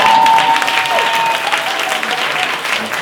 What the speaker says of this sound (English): a big round of applause to Tommy and Kaz